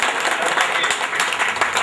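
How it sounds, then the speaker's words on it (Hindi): Brief burst of strong audience applause welcoming a guest, a managing editor at a news channel, many hands clapping densely and close throughout the short stretch. "आशुतोष जी के लिए एक बार जोरदार ताली"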